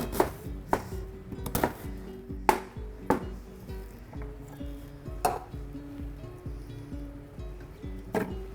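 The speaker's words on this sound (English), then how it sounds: "So we're going to roughly chop the onion" A knife roughly chops an onion on a board for jerk salmon, sharp irregular thuds at close range, some clustered, others spaced apart, over a faint background hum.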